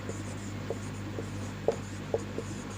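A rule being written on a board, heard as faint intermittent taps and short scratchy strokes over a steady low background hum, with no talking.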